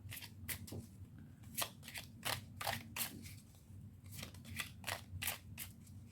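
Oracle cards being shuffled by hand, a run of crisp riffling bursts with short pauses between them, close and fairly loud with no talk over it.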